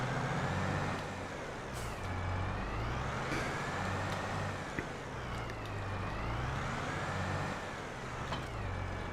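A tractor engine in the Farming Simulator video game drones steadily, its pitch cycling up and down in a repeating pattern, with occasional hisses and clicks over the low rumble.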